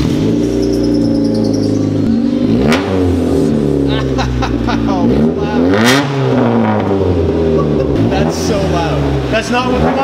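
A Honda EG hatchback engine revs repeatedly through a full exhaust bolted up without its muffler and with a destroyed catalytic converter, loud, raspy and close, rising and falling in several blips while people talk over it.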